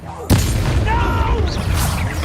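Incendio fire spell blast in Hogwarts Legacy: a sudden loud boom opens, followed by crackling, whooshing magical effects and a voice speaking over the game sounds.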